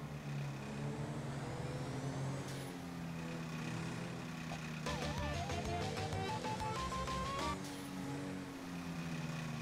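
A car engine in GTA runs steadily throughout, a rough, damaged-sounding hum with a brief burst of game sound effects in the middle, fairly loud and without speech.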